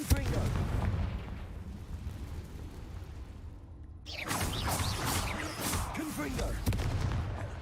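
Fiery Confringo spell blasts from the video game Hogwarts Legacy, a dense booming crackle with a sharp burst midway, layered over continuous game sound and music.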